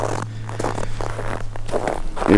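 Footsteps crunch and squeak through cold snow in a steady walking rhythm, close and fairly loud, with a low hum underneath.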